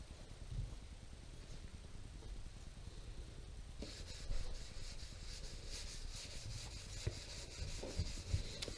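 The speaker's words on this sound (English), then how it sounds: "This will probably be the lightest sanding pressure that I've used yet." Faint, soft rubbing strokes of a microfiber mesh pad finer than 3000 grit lightly sanding a lacquer finish, a quiet repetitive hiss of back-and-forth passes that grows brighter partway through.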